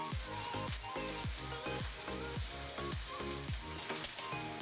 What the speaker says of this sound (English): In goes the onions. Listen to that sizzle.